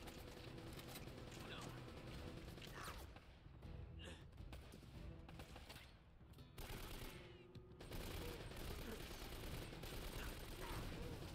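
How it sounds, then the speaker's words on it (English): Machine gun turret firing in the action game Uncharted: Drake's Fortune, rapid dense bursts of gunfire with brief gaps, loud and continuous amid game noise. "It's that machine gun turret that's a problem."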